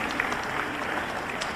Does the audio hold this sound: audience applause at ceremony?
yes